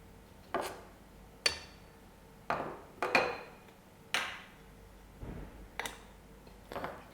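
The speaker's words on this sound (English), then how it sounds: "We'll use our hammer." A hammer taps a metal bushing into an airbag retaining frame about eight or nine times, each strike sharp and ringing, spaced irregularly with short quiet gaps between.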